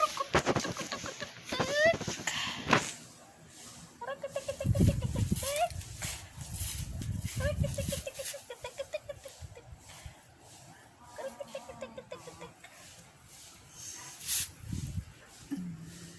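A pet chicken clucks in a garden in short bursts, with some louder crow-like calls, while a person sweeps nearby and someone talks over much of it.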